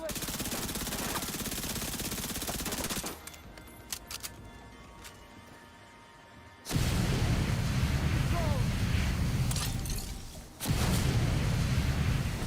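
Video game gunfire in bursts of rapid shots, loud and dense, with a quieter gap in the middle before heavy firing resumes.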